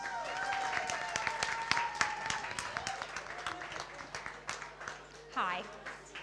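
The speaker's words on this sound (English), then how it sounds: "Let's give her a big round of applause" Guests at a wedding celebration applaud the maid of honour, scattered distinct claps building into steady applause over a hum of background chatter, with a voice rising near the end.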